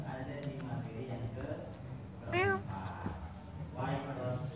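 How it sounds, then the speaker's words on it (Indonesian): A domestic cat gives a short rising meow, then another fainter one a bit later. Both sound close but sit under people talking in an indoor room. "Benar itu kucing."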